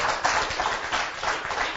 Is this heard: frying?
no